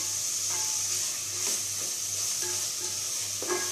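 Chillies and spices sautéed in a pan for mutton bone curry, a continuous close hiss of frying oil with soft intermittent stirring scrapes, no voices.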